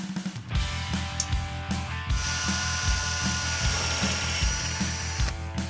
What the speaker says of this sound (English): we are ready to drill